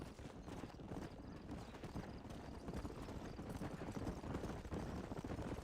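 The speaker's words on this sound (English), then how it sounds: "Get on your horse, boy!" Steady rapid hoofbeats of a galloping horse in Red Dead Redemption, continuous and fairly close, with a dense rumbling texture throughout.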